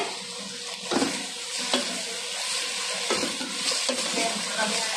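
Pasta sauce with turmeric and black pepper is stirred in a hot pan, giving a steady sizzle and frying hiss with a few louder scraping stir strokes spaced through the clip, close up and without talk.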